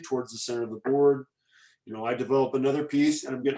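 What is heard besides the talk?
No everyday noises stand out.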